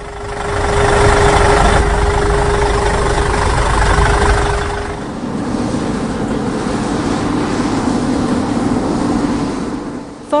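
Heavy duty tractor engine idling close by with a loud, steady drone and a faint whine, easing to a lower, rougher rumble for the second half.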